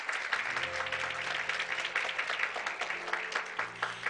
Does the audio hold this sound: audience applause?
yes